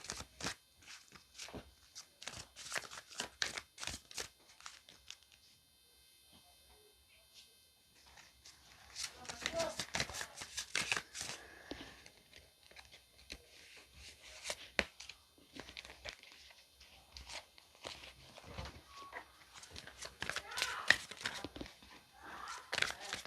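Tarot cards are shuffled and handled close by, producing faint, quick papery riffles and flicks that come in bursts separated by near-silent pauses.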